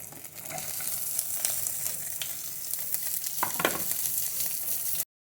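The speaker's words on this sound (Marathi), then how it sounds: "कांदा पण चांगला आपण परतून घ्यायचा आहे" Chopped onion sautéing in a pan with garlic over low-to-medium flame, a steady broadband sizzle with a few soft stirring scrapes, close and continuous before cutting off.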